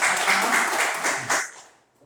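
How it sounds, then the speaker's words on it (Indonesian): A class applauds a student's correct answer during a teaching-practice lesson: about a second and a half of brisk, fairly close clapping from many hands that then trails off quickly into near silence. "Iya, bagus. Tepuk tangan dulu."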